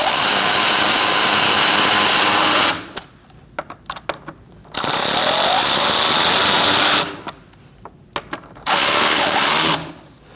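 Power tool driving screws into a front license plate bracket on a 2021-2025 Jeep Grand Cherokee L, three loud close bursts of whirring separated by short pauses with small clicks and handling noises.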